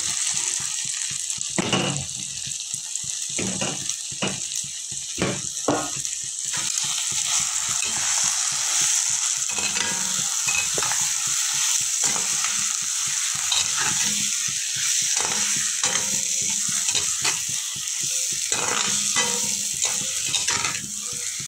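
Peas and potatoes with turmeric sizzle steadily in a hot oiled pan, a constant close frying hiss broken by repeated scraping clatters of stirring.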